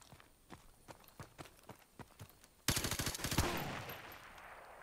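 Rapid automatic gunfire in Call of Duty Modern Warfare Remastered, light footsteps first, then a sudden burst of fast, evenly spaced shots that ends and fades into a lingering rumble.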